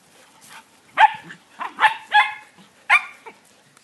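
An adult shepherd-type dog gives sharp, gruff warning barks and growly yips at an overeager puppy near a meat bone, about four distinct close bursts in a few seconds with brief gaps between.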